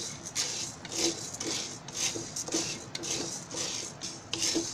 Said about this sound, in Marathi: आता हे साबुदाणे आहेत ना हे आता भाजून घेते.